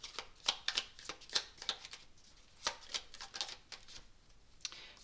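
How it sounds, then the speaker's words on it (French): Tarot cards being shuffled and drawn by hand, a close run of crisp papery riffles and slaps in irregular bursts, then a few separate flicks as a single card is pulled from the deck. "On va tirer une dernière petite carte."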